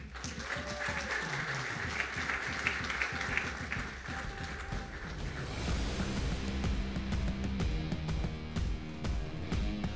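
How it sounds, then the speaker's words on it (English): A large crowd at a boxing event applauds, a dense wash of clapping that swells and continues steadily, with scattered cheers and no talking. "I'd like a big round of applause"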